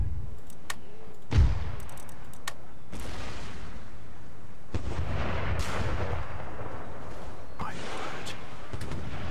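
Artillery and cannon fire in the Empire: Total War battle game, with scattered distant booms and one heavier thump rolling out over steady battlefield ambience, spaced irregularly across the scene.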